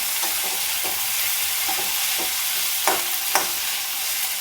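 Thin slices of bitter gourd, coated in turmeric and salt, fry in a pan with a constant soft sizzle, broken by several sharp spatula scrapes and taps against the pan.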